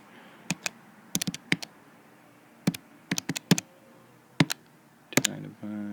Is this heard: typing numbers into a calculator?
yes